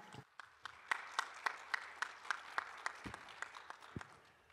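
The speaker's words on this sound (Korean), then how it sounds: "앤드루 셀먼님을 큰 박수로 맞이해 주시기 바랍니다" An audience at the 2022 Pyeongchang Peace Forum economic session claps to welcome the moderator, a faint, somewhat distant run of evenly spaced claps that swells briefly, then tapers off.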